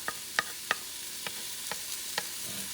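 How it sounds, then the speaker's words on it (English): Scotch bonnet pepper and fresh ginger sauté in a pan under a steady, soft sizzle, with several light clicks of a utensil stirring against the pan. "Going to mix these babies. Saute it."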